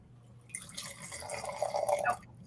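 Wine pours from a Coravin Pivot wine preserver into a glass, a brief close trickle that swells into a steady splashing stream for about a second and a half before stopping.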